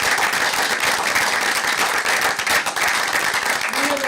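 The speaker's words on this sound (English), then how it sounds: "I would love it if we could give them a round of applause for their service." Sustained round of applause for school board members at a district board meeting, many hands clapping steadily at close, fairly loud level, with a faint voice or tone creeping in near the end.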